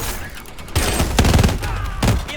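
Bursts of gunfire and heavy explosions in the Call of Duty Advanced Warfare campaign, loud, dense and close, with rattling rapid shots layered over a booming battle din.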